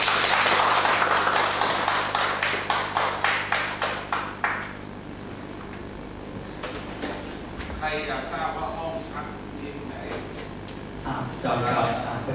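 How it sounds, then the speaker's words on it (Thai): An audience at a Thai event claps in a steady burst of applause that fades out after a few seconds, followed by quieter room sounds and talking. "ขอบคุณท่านอาจารย์ด้วยเสียงปรบมือด้วยครับ"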